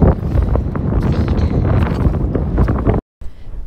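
Strong, cold wind buffets the microphone on a beach, a dense continuous roar with gusty peaks that cuts out briefly near the end before resuming.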